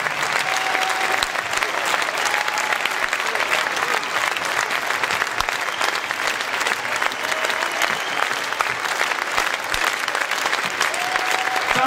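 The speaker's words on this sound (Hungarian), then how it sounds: "Tapsot érdemelnek a műsor alkotói." An audience applauds after a Mezőség folk dance show at a dance-house festival, a steady, dense wash of clapping that fills the whole stretch at even loudness, with a few faint voices in the crowd.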